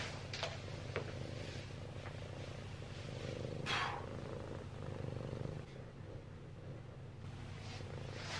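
A cat sits right beside the camera and purrs, a soft, continuous low rumble close by that runs unbroken for the whole stretch, with no talking.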